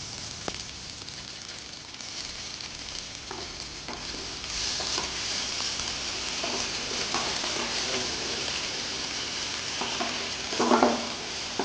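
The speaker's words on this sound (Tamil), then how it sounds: "கொஞ்சம் இந்த பச்சை மிளகா நல்லா சாத்தே ஆகட்டும்" Green chilies sauté in hot oil in a pan for a brinjal fish gravy, giving a steady broadband sizzle with occasional stirring clatter and a louder burst near the end.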